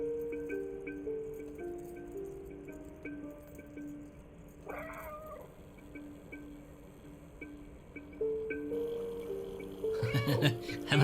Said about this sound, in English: I'm not doing these meows. The game is doing those ones.